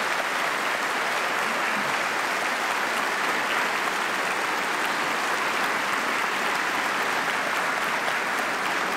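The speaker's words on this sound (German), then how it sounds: "Ich glaube, Sie kriegen einen strahlenden Applaus." A TV studio audience at a German game show claps, a loud, dense, sustained burst of applause that runs steadily from start to finish, with no talking over it.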